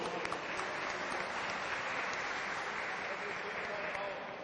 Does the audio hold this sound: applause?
yes